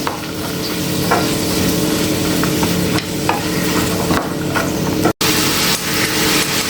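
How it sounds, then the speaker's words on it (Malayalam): Chopped spinach stems sauté in a hot pan with a loud, constant sizzle, broken by regular scrapes and clacks of stirring and one brief cut near the end; no one speaks. "അതിൻ്റെ കൂടെ തന്നെ നമ്മൾ അരിഞ്ഞു വെച്ച ചീരയുടെ തണ്ടും കൂടി ഇട്ട് കൊടുക്കുന്നുണ്ട്. നന്നായി ഒന്ന് വഴറ്റിയെടുക്കാം നമുക്ക്."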